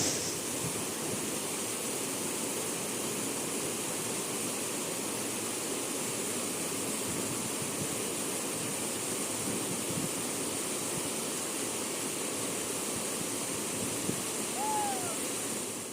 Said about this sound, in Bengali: আমরা পৌঁছে গেছি আমাদের ফার্স্ট সাইট সিইং পয়েন্টে থারে ওয়াটারফল